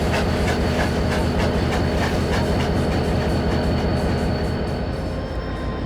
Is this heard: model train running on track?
yes